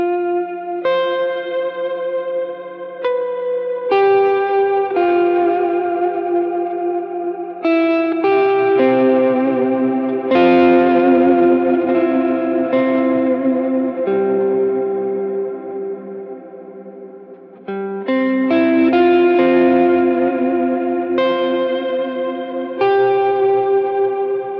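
An electric guitar runs through an Aura TubeShort overdrive with light drive and a Collider reverb, playing sustained arpeggiated chords and single notes with long, lush reverb tails, loud and alone without speech.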